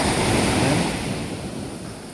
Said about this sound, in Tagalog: maglalakad-lakad muna kami dito sa taping dagat